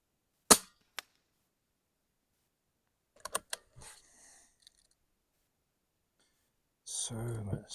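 Spring air gun shots sound as a sharp crack followed by a fainter one, then a short cluster of quick clicks and pops, before a burst of speech near the end.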